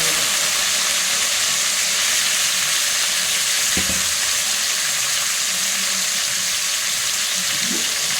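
Chicken meat for curry fries in a pan with curry leaves, giving a loud, steady, dense sizzle throughout, with a couple of brief knocks from a utensil, close up and without speech.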